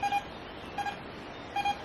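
A Vista X metal detector's faint electronic iron signal tone beeps three times at a steady pace over low background hiss.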